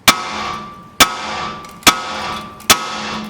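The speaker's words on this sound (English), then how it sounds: "you whack the knuckle where it's attached to" A hammer strikes a car's steering knuckle to free a ball joint: four sharp metallic whacks spaced roughly a second apart, each ringing briefly before fading, close and loud.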